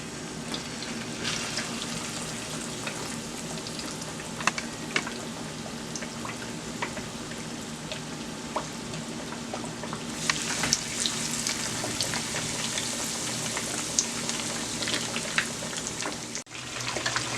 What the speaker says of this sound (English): The fish is frying